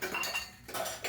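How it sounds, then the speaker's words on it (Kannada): Metal utensils and pots clink and clatter as dishes are washed by hand at a home kitchen sink, in short bursts of close, bright knocks separated by brief pauses, with no talking. "ನಾನು ಪಾತ್ರೆ ತೊಳಿತಾ ಇದ್ದೀನಿ"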